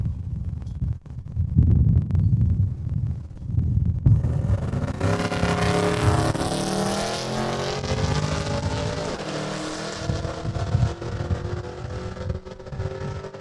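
A Camaro making a drag-racing test pass down the track on VP fuel, heard as a loud, steady engine roar that builds and holds, with a rising high-revving tone through the middle before easing off.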